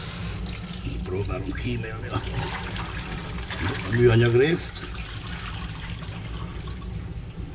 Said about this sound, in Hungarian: Nem szoktam beleönteni azonnal azt a tűzforró vizet.